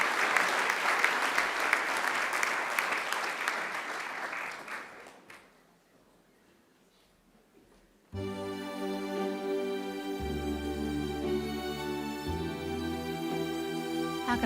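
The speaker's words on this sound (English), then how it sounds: "Let's give Josh another great round of applause." A graduation audience at Macquarie applauds speaker Josh, a full round of clapping that dies away into a brief quiet before piano music begins.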